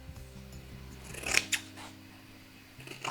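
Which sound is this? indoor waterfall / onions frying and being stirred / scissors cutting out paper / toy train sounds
scissors cutting out paper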